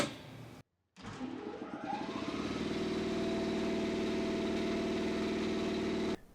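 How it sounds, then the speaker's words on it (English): An Ingersoll Rand Model 2340 80-gallon air compressor cuts in after a brief silence, its motor winding up and settling into a loud, steady droning hum with a rattling pulse that runs to the end. "turn it back on"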